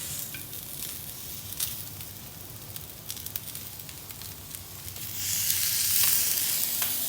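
Vegetables and Manchurian sizzle loudly on a hot Chinese sizzler plate, a dense crackling hiss with scattered pops that swells noticeably stronger toward the end.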